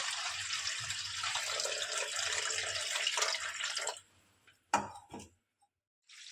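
Tap water pours steadily over fenugreek (methi) leaves being washed in a home kitchen, a continuous broad hiss for about four seconds, then brief splashes and drips as the flow stops, with near silence between.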